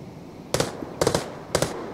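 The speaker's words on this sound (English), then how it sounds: "Someone just shot at me." Three sharp gunshots in Arena Breakout Infinite, fired about half a second apart, each a loud crack followed by a short echoing tail.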